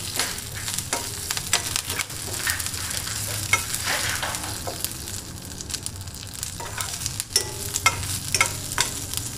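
Green chillies and curry leaves crackle and sizzle in hot oil in a pan, with busy stirring clatter and scattered sharp pops throughout, close and unaccompanied by talk.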